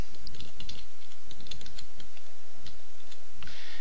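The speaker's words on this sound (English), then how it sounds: "then I'll just type in the password for that account" Rapid keystrokes on a computer keyboard as a password is typed in, a steady run of close, crisp clicks with brief pauses between bursts and no talking.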